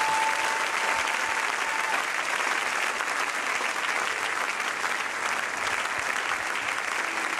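A church congregation bursts into sustained, dense applause, a loud continuous roar of many hands clapping that fills the room, with faint voices mixed in.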